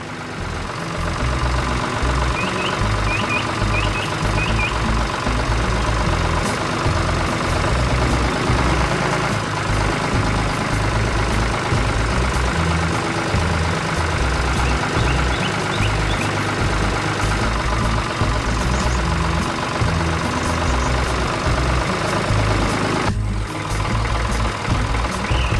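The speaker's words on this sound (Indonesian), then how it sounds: "Lihat itu, traktor hijau dengan orang di dalamnya berjalan di bawah" A green cartoon tractor with a person inside rumbles along with a steady, loud heavy engine drone, the low throb continuous throughout, with brief high beeping chirps and a short dip near the end.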